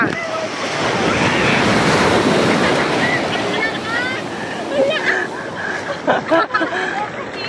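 Ocean surf rolling onto a beach on the Hamilo Coast at Nasugbu, Batangas, a steady loud wash with wind buffeting the microphone, while people shout and talk over it near the end.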